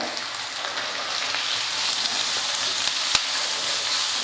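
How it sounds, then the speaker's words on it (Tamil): Onions and grated carrot sauté together in a pan for paniyaram made with idli batter, with a continuous close crackling sizzle, steady throughout, with a sharp click near the end. "எல்லாம் சேர்த்து ஒரு நிமிஷத்துக்கு வதக்கிக்கலாம்"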